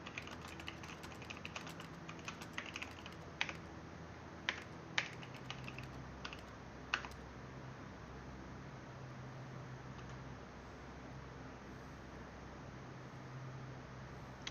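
Computer keyboard typing with a typewriter-like clack: quiet, close keystrokes in irregular runs with a few sharper louder taps, over a steady low background hiss.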